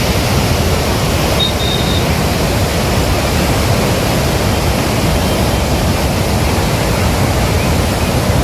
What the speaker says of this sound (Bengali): জল ছাড়ার দৃশ্যটা দেখো মুকুটমণিপুর ড্যাম থেকে।